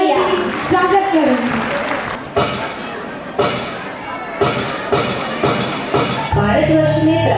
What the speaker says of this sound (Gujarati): જોરદાર તાળીયા. સ્વાગત કરો.